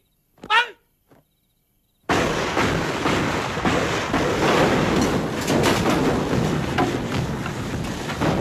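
Gunfire and explosions in a Vietnamese war film: a shouted command and a brief thump, then a sudden sustained roar of heavy battle noise that continues loud to the end.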